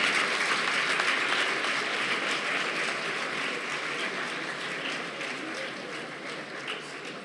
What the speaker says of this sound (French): Donc l'applaudissez.